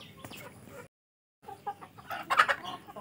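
Tiger chicken roosters on a farm give several short clucks and squawks, close and moderately loud, broken by a brief silent gap, with a denser burst of calls near the end.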